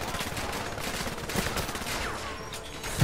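Sustained gunfire from the 007 Legends video game, Die Another Day mission, with dense rattling bursts running continuously at steady loudness throughout.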